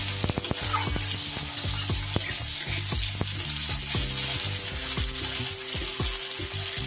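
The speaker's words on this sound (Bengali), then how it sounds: "এবার ফোড়নের মধ্যে এক এক করে আমি সবজিগুলো দিয়ে দেব। প্রথমে গাজরটা দিলাম" Carrots tipped into hot oil already seasoned with cumin seeds and bay leaf for a vegetarian Bengali dish, giving a steady close sizzle and frying hiss with repeated scraping clicks of a spatula stirring throughout.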